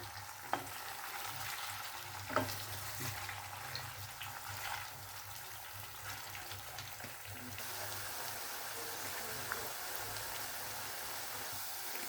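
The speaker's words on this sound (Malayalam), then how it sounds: "മീഡിയം ടു ഹൈ ഫ്ലെയിമിൽ വെച്ചിട്ട് ഇടയ്ക്ക് ഇളക്കി കൊടുക്കുക" Potato pieces frying over medium-high flame with occasional gentle stirring, a soft continuous sizzle punctuated by a few light spatula clicks and scrapes against the pan.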